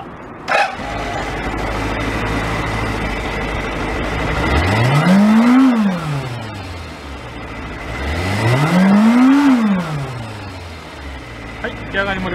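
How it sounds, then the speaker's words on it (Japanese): A Suzuki GSX400 Impulse motorcycle engine idles, then revs twice in rising and falling swells, close and loud, with a brief sharp sound near the start. "ではエンジン始動していきます"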